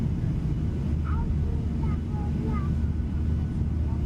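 In Microsoft Flight Simulator 2024, the cabin of a PMDG Boeing 737-800 airliner gives a steady, loud, low roar of engine and airflow noise, with faint passenger murmur over it.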